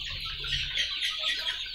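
Tiger (Sonali) chickens cluck and chatter on a poultry farm, many birds at once in a continuous, moderately loud flock murmur.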